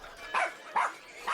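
Dogs bark and yip in three short, excited bursts spaced evenly apart, fairly close and loud over a faint background.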